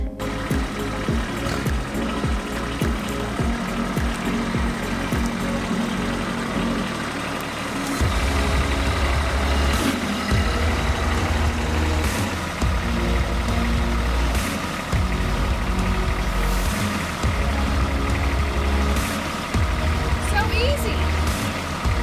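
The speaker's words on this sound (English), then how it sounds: "you just saw Ryan coming up with the forks on the tractor so we could lift a pallet off of the logs" Tractor fitted with pallet forks driving up at a log cabin kit build to lift a pallet off logs: a steady diesel engine rumble that swells louder and throatier midway as it approaches, with scattered knocks and clatter.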